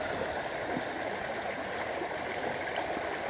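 A river flows steadily, its water rushing and gurgling in a continuous, even stream with no voices.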